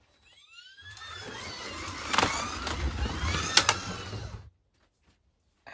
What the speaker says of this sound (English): I probably need to test the track to make sure it still runs the cars okay